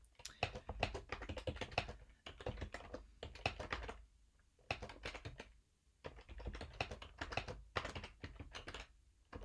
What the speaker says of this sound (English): I'll go ahead and type in that I'm in Redwood City.